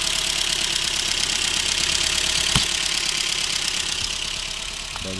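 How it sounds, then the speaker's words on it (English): A Honda Fit engine idles loudly up close with an uneven, stumbling rhythm from a cylinder 2 misfire, plus a sharp click midway. "There is a misfiring somewhere in this engine."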